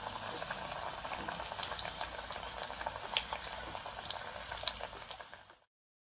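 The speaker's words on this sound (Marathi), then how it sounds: "आता हे कच्चे केळ्याचे एक एक कापं आपण घालून छान" Raw banana slices fry in hot oil with a steady, dense crackling sizzle and scattered sharp pops, moderately close and continuous, ending abruptly.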